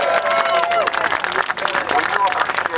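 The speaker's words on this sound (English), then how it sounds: "Just like to give a round of applause to the local politicians that came down here" An audience at a union rally claps for local politicians in a short burst of applause, with crowd chatter and voices mixed over it.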